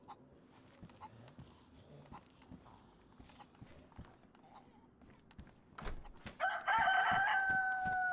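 In the DayZ video game, a rooster crows loudly near the end, preceded by scattered clucks, sharp footstep-like knocks and soft background ambience.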